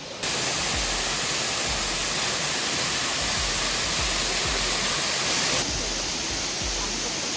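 Sirimane Falls near Sringeri, a steady, loud broadband roar of falling water close by, continuous and unbroken with no talking.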